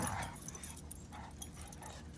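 Dogs, one of them a timid newcomer being coaxed out, give soft whimpers and high yips close by, the thin cries broken up over a couple of seconds.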